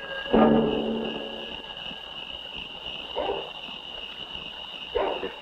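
Tracking dogs barking in the distance in a 1962 horror film, a few faint far-off barks spaced seconds apart over steady insect-like night chirping.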